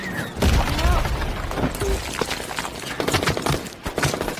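A cannon shell blast in the war film Hacksaw Ridge, set among chaotic battlefield noise with crashing, debris-like bursts and scattered impacts, loud and dense throughout, with voices shouting faintly in the mix.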